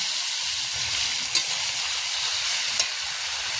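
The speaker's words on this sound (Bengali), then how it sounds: "পেঁয়াজ আর রসুনটা ভালো করে ভাজা হয়ে গেছে, এতে দিয়ে দেবো ম্যারিনেট করা মাংস" Marinated meat tumbles into a wok of fried onion and garlic, a steady close sizzle of hot oil with stirring scrapes and two brief sharp clinks.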